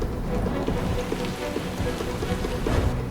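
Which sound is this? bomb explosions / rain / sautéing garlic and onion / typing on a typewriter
rain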